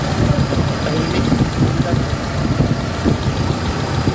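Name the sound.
car engine idling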